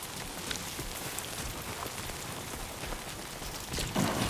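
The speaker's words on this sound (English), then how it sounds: "I have fake rain near my house" Simulated rain falling in the video game Death Stranding 2, a steady dense hiss of rain on surfaces with scattered droplet patter, a brief louder swell near the end, no talking.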